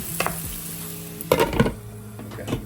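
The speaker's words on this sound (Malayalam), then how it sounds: "അപ്പോൾ ഇതൊന്ന് ഇളക്കിയിട്ട് വീണ്ടും അടച്ചു വെക്കാം." A spoon stirs masala prawn curry in a pan, giving a few soft scraping and clinking strokes over a low sizzle, with a louder burst of stirring in the middle.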